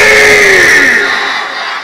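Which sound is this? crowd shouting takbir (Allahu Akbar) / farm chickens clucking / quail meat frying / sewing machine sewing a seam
crowd shouting takbir (Allahu Akbar)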